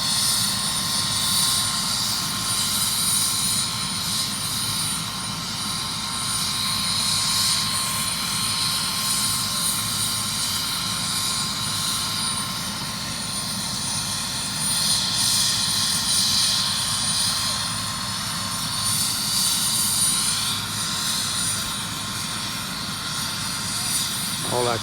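A helicopter sits with its engine running at the scene of a shooting, a steady whining turbine drone with a high tone and a low beating rotor rumble, held loud and constant for about twenty-five seconds.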